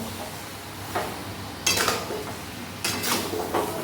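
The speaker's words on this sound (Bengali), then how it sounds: "এইটাকে আবার ভালো করে নাড়িয়ে চাড়িয়ে মিশিয়ে নেব" Mango pickle with sugar stirred in a pan over medium flame: a few scraping, clinking spatula strokes against metal over a soft background sizzle, close and brief.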